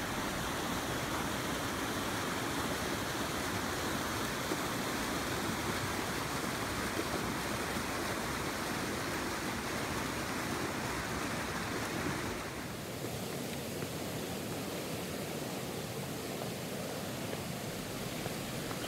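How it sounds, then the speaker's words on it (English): Fast-flowing creek water in Bells Canyon rushes steadily in a dense, continuous roar, close and unbroken, easing slightly partway through. "the water is moving quite fast and can be dangerous if left unattended"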